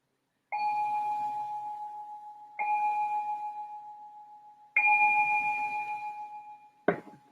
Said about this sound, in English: I'm going to ring the bell to sing at the start of our meditation